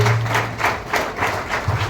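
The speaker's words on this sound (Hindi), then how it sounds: "तो हम ताली बजा के उनका स्वागत करेंगे" Guests applaud to welcome a couple at a Christian church wedding, a brief burst of rhythmic group clapping with regular beats, fairly close and clear over a low background hum.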